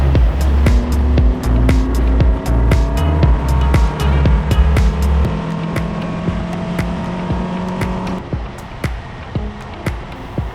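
Toyota Yaris race cars run in a close pack on a circuit during a TRD series final, engines rising and falling in pitch as they pass and shift, with frequent sharp ticks and clicks throughout.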